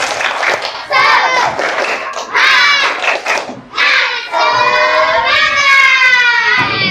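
Schoolchildren at an elementary school in Palembang perform a 'tepuk semangat' spirit chant in class, with bursts of rhythmic clapping and loud, excited shouting voices in several surges, close and lively.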